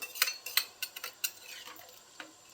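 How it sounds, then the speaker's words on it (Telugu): Metal clinks and clatters as a pressure cooker lid is fitted over chicken gravy curry, several light sharp knocks spaced irregularly, fairly close and quiet with no talking. "కుక్కర్ మూత పెట్టుకున్నాం"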